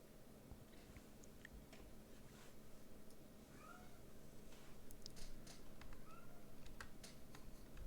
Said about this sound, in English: I don't know if you guys can hear my cat, but she's going.